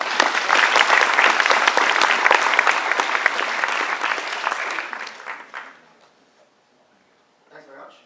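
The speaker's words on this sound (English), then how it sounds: "I'd like a large round of applause" An audience claps loudly for a speaker at a science demonstration event, a dense, sustained round of applause that holds steady for about five seconds, then fades out into near silence before a brief stir at the end.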